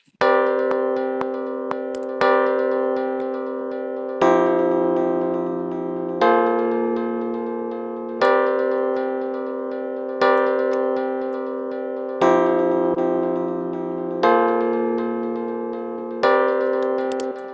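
A synthesized chord raised by an octave plays as a loud, bright, repeating pattern of sustained chord hits, with a fresh attack roughly every two seconds, heard alone without speech.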